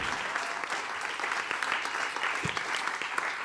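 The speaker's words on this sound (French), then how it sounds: "Tonnerre d'applaudissements pour Abdoulaye" A comedy-show studio audience at the Swiss Comedy Talent final claps steadily throughout, a dense, fairly distant wash of many hands with a few sharper individual claps.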